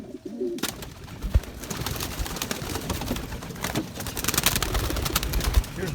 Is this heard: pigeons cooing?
yes